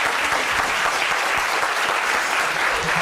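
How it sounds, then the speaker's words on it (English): A security guard claps in a courtroom, a dense and steady burst of applause that sounds like several people clapping together, lasting a few seconds. "He clapping a little too hard."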